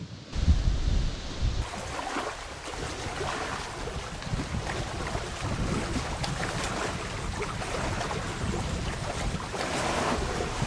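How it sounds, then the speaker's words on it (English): Strong wind gusts across lake water at a campsite, buffeting the microphone with a loud, constant roar and wash of waves that continues unbroken. "See if this wind will calm down."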